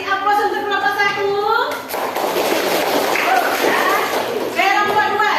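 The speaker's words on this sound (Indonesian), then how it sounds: "kasih aplaus untuk kelompok 1" A classroom applauds group 1 with a burst of clapping in the middle, framed by a teacher's speech before and after the applause.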